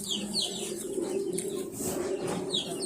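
Pet pigeons cooing softly nearby in a loft, with repeated low throaty coos and a few brief higher chirps over steady background hum.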